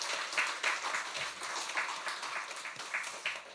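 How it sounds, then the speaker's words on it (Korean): A church congregation applauds its choir during a Sunday worship service, a steady wash of many hands clapping together, fairly faint and distant throughout. "우리 성가대 경의 박수 하겠습니다"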